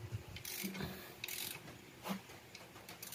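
Torque wrench clicking while stud bolts are tightened on a Honda ADV160 engine, with a few faint ratcheting clicks over a steady background hum in a workshop setting.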